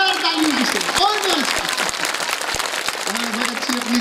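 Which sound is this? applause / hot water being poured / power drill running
applause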